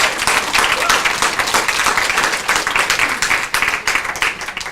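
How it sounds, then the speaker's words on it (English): An audience at a talk on deportation flights claps in a dense, lively round of applause that stays loud throughout, with murmured voices mixed in. "That deserves a round of applause."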